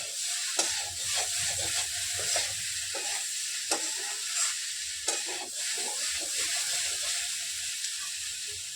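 Vegetables fry in a hot pan in a home kitchen, a steady bright sizzle running throughout while a utensil scrapes and stirs at irregular intervals.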